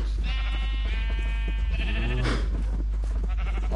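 Sheep bleating in Minecraft, several wavering bleats in sequence, fairly clear over a constant low hum, with no talk.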